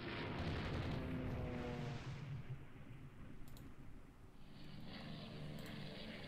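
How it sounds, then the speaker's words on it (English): Torpedo hits explode one after another during a naval air attack on a Diadem-class heavy cruiser in the naval strategy game Rule the Waves III, a broad rumbling boom that fades and then swells again, with no talk over it. "And another torpedo hit, a lot of torpedo hits here by our aircrafts basically."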